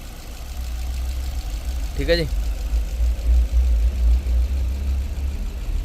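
A Maruti Suzuki Brezza car engine idles steadily after an overhaul, a low, even rumble carrying through the whole clip with a brief voice partway through.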